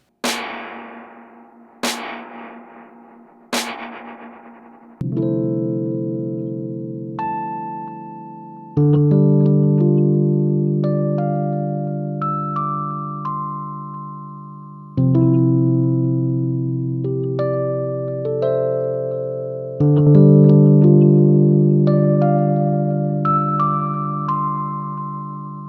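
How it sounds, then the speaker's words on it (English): A guitar played through a reverb pedal set to tremolo, plucked notes and chords ringing out in long sustained washes of reverb. A few sharp strums open, then chords swell and decay one after another, loud and without speech. "Let's go to trem, for instance, which basically makes it into a tremolo,"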